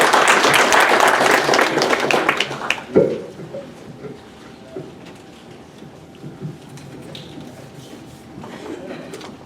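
A community business meeting audience gives a round of applause for Michael Turner, loud clapping for about three seconds that cuts off abruptly, followed by quiet room noise and faint talking.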